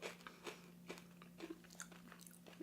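Cinnamon Toast Crunch cereal crunches in a series of close, quiet bites and chews, each a short crisp crackle at an irregular rhythm over a faint low hum.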